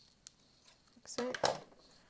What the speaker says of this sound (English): Just finish it off with the scissors.